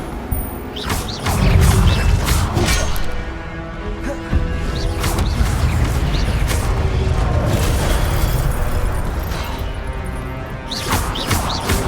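A fiery spell from Hogwarts Legacy, an Incendio blast, erupts with booming bursts and crackling impacts amid an ongoing magical duel, loud and close with repeated hits.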